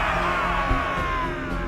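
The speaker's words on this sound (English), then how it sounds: "and the crowd goes wild" Crowd cheering and whooping in Assassin's Creed IV Black Flag after a ship upgrade, with a dense, steady roar of many voices that stays loud and constant from start to finish.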